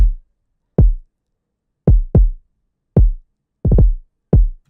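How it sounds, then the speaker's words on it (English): Deep phonk kick drum hits in a sparse pattern, close and punchy, with a quick cluster of rapid sextuplet strikes forming a short roll near the end. "Yeah, so the kick just sounds like this."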